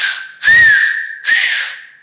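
Canarian Silbo whistled by a speaker wearing a dental prosthesis, two loud, sustained whistled phrases with a gentle pitch rise, separated by a brief dip.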